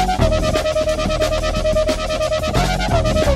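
FabFilter Twin 3 software synthesizer playing a dense, steady patch with a sustained lead tone over a pulsing rhythmic bed, loud and continuous for several seconds.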